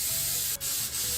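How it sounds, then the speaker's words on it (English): Coconut oil cooking spray hisses from a can in two quick bursts, a soft steady spray with a brief pause between, close and alone without talk. "Spray this with coconut oil."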